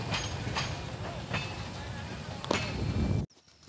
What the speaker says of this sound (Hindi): अभी देखिए डबल लाइन पर ट्रेन आ रही है, लेकिन ये स्विच करके सिंगल ट्रैक पकड़ ले रही है।